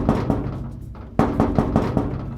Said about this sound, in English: you can go up to a base and you can knock on it. Knock on the door.